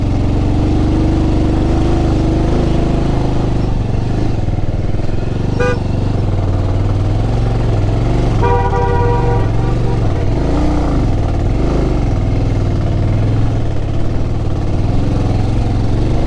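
A motorcycle labours up a steep mountain road in first gear near Reckong Peo and Kalpa, Himachal Pradesh, its engine droning loud and constant close by, with a vehicle horn honking briefly twice along the way.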